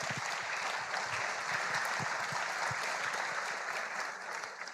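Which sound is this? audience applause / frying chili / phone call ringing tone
audience applause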